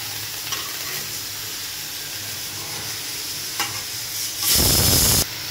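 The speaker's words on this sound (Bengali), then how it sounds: "এই যে আলু আর বটবটি দিয়ে দিলাম। এবার বেশ ভালোভাবে নেড়ে চেড়ে মিশিয়ে নেব।" Potatoes and borboti beans are stirred in a pan while frying: steady soft sizzling carries scattered scrapes of the utensil, then a brief loud burst of hissing near the end.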